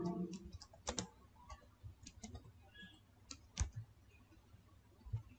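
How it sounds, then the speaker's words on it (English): Mouse clicks on a Windows 10 Start menu followed by typing on a computer keyboard, heard as a few sharp close clicks and light scattered keystrokes spread across a quiet room. "Click on start and type here system properties."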